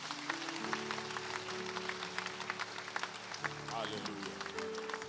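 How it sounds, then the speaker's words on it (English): A church congregation claps during a sermon, a dense, steady patter of many hands that carries on throughout, with voices and tonal music sounding over the clapping. "Can you clap for Jesus one more time?"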